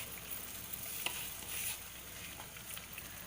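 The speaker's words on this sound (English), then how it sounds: "now we have to keep stirring it" Guava halwa mixture with sugar and a little water being stirred in a pan, a quiet steady sizzle with soft scraping of the spoon throughout.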